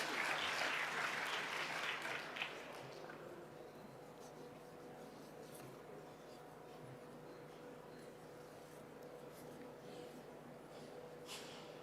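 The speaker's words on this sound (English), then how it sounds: "A warm round of applause for Professor Maganu." Audience applause at a colloquium on 30 years of the Constitution, a full, dense round of clapping for the first two seconds that quickly dies away into quiet room tone.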